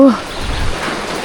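Heavy rain pours steadily during a storm, a loud, close, continuous hiss with a brief voice at the very start.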